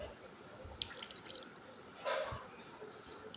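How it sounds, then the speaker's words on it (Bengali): Coconut milk is squeezed through a cloth and drips faintly into a container, with soft, irregular drips and a brief louder trickle partway through, under a quiet background. "রুমালের মধ্যে ঢুকিয়ে চিপে চিপে বের করে নিতে হবে দুধটা।"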